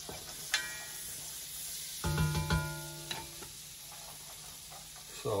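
A roux for blue crab bisque cooks over moderate heat in a pot, with a steady low sizzle and a brief cluster of spoon scrapes and clanks against the pot midway, close and without talk.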